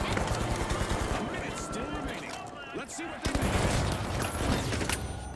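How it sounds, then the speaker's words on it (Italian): Rapid gunfire bursts from a shooter video game crackle throughout, dense and continuous under excited talking players and game noise. "Tanto che sento spari"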